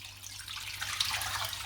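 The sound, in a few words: pouring cold water into a pot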